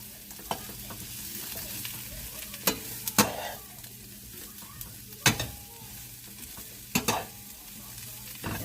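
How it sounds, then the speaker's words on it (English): Onions and potatoes frying in a pan for southern smothered potatoes, a continuous sizzle broken by several distinct spatula scrapes and clacks against the pan, close by with no talking. "you just want to make sure the onion gets mixed down to the bottom."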